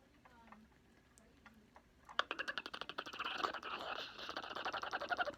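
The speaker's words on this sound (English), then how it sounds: "This is my keyboard, actually, that Sarah gave me" Close, brisk typing on a computer keyboard, a rapid run of crisp key clicks following a few quiet seconds with faint voice-like sounds.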